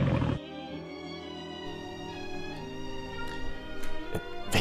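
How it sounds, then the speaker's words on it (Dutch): A deep lion roar of the kind used for the famous film studio lion logo sounds out after a short burst, rumbling and sustained for several seconds. "zo moet ook de bekende filmleeuw een echte brul krijgen"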